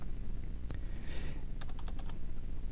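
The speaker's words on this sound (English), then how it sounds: "hit the tab key and type in story" Computer keyboard typing, a few scattered quiet clicks followed by a quick burst of several keystrokes, faint and close with no voices.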